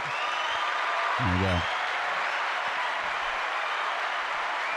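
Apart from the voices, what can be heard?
studio audience applause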